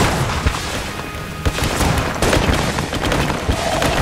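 Dense rapid gunfire and booming shots from the video game Enter the Gungeon, a loud continuous barrage of overlapping blasts.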